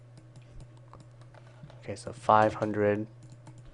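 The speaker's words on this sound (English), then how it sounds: "I'm typing into my website." Typing on a computer keyboard, with quick, light key clicks tapping along steadily at close range while someone speaks briefly near the end.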